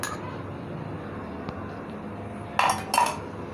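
Two brief metallic scrapes of a spoon against a cooking pot as saffron-tinted yogurt is spooned over chicken tikka biryani, close and clear over a steady kitchen background hum.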